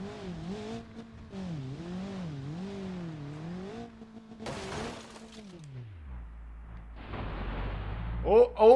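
A Gavril Vertex NA2 car in BeamNG.drive climbs a steep hill, its engine droning and wavering in pitch as it revs, then dropping away before a crunching impact and rattling clatter close the moment.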